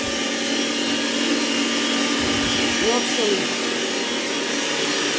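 An electric meat grinder runs in a home kitchen, giving a loud, steady motor whine with a continuous grinding drone that fills the whole stretch, while someone speaks over it.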